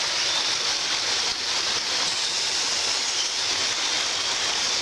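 Creek water rushing steadily outdoors near painted rock, a dense broadband wash with no pauses, close and fairly loud, no voices.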